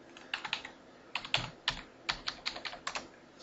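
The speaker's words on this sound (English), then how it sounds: "when I'm typing the data in" Quick, uneven keystrokes clatter on a computer keyboard during data entry, about a dozen close, crisp taps in irregular bursts over a quiet background.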